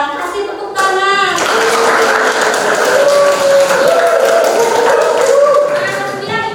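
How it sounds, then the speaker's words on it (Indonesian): A classroom of students claps for a classmate, a dense, steady patter of many hands filling several seconds, with a brief voice at the start and some chatter under it. "Kasih tepuk tangan."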